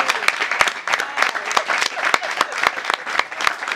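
A press conference audience claps in a lively, uneven burst of handclaps. The close, sharp claps carry on throughout, with some voices mixed in.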